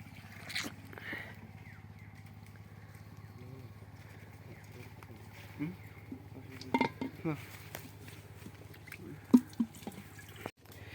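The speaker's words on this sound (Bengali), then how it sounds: "নাড়িগুলো ধুয়ে থুয়ে দিচ্ছি" Clay pots used to collect date palm sap are rinsed with water outdoors, giving faint drips, splashes and hollow knocks of pottery spread over a quiet, low hum, with a soft voice now and then.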